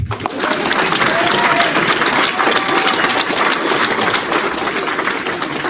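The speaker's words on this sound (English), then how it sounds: "You can clap." A graduation ceremony crowd claps loudly and steadily after the pledge of allegiance, dense applause with faint cheering voices mixed in.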